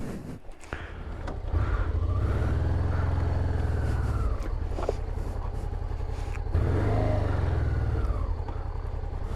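Honda Africa Twin adventure motorcycle engine ridden offroad, a steady close drone rising and easing with throttle, rumbling continuously across the ride with brief dips and surges.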